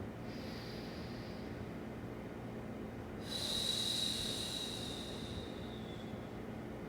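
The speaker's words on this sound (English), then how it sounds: "Inhale through the nose. Exhale." Two slow, deep breaths, a soft nasal inhale followed by a longer, louder exhale through the nose or mouth, close and alone over faint room hum, ending a Pilates session.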